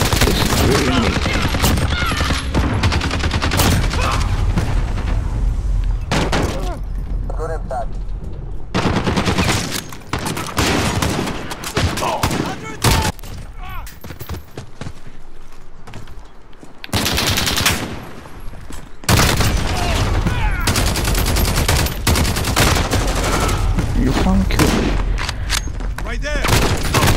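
Sustained gunfire in Call of Duty Modern Warfare, dense rapid bursts close and loud, broken by a few short pauses, with game sounds layered throughout.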